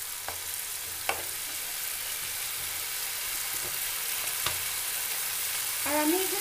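Chicken curry ingredients and spices frying in a pan with a little water added, in a village kitchen, giving a steady soft sizzle throughout, broken by a few faint clinks and taps.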